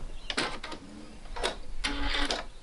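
A home sewing machine runs in short bursts, back stitching a seam on a New Look 6575 garment, with quick mechanical whirring stopping and restarting about three times, close and moderately loud.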